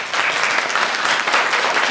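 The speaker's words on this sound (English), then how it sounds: "can we just do a big round of applause" A community symposium audience gives a loud, sustained round of applause, dense clapping that fills the room evenly for two seconds with no voices above it.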